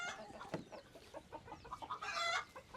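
Farm chickens clucking close by, a scattered run of short, quick clucks and squawks with a louder burst toward the end, no talk over it.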